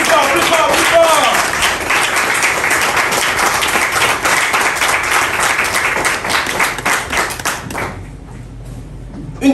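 Loud, sustained applause from an audience at an inauguration ceremony, dense rhythmic clapping that fades out near the end, with voices mixed in.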